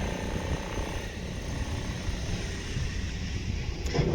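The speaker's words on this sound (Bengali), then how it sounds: "ওই তো প্লেন নামছে" Distant airplane drone as a plane descends to land near an airport, a low steady rumbling roar that holds even throughout, with no speech.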